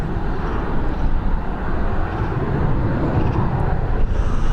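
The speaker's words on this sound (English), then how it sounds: "we're heading over to Paris now with this Embraer" An Embraer business jet departing Dublin Airport from runway 10R for Paris, a loud, continuous broadband engine roar that holds steady throughout, close and unbroken, with no voices.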